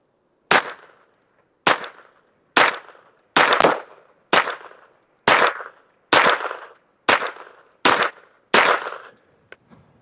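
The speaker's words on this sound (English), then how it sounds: "Let's shoot a 10-shot group to that top left target." Rifle fired for a 10-shot group at a target with a Gideon Optics Advocate scope, loud sharp reports spaced about a second apart, each with a short ringing decay, followed by a faint distant ping at the end.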